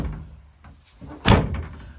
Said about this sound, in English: Also note there's no door rubbers, but as I close the door,